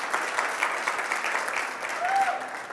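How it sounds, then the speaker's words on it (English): Audience applause at a conference session, steady mid-level clapping from a seated crowd with a brief tonal squeak partway through. "I want to give her a round of applause"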